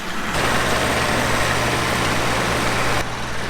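A massive topsoil screener's engine idles steadily on used vegetable oil, a loud continuous low rumble with a constant mechanical drone that holds the whole time and drops away only at the edges.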